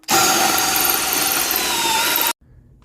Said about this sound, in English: you're free to drill your hole